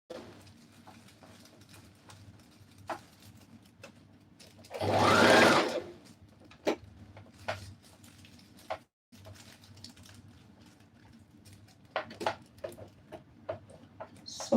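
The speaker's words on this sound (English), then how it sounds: "So when you're sewing this kind of darts, you have to take it slow." Sewing machine stitching darts on a Rwandese cultural dress: a loud, sustained motor whir lasting about a second midway, with scattered fabric handling clicks and faint background hum around it; no speech.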